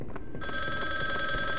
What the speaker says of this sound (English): What the fuck does this phone want?